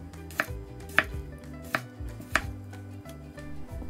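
A knife slices cucumber diagonally on a cutting board with four sharp, distinct chops spaced about half a second apart, close and crisp, with light handling sounds between them and no speech.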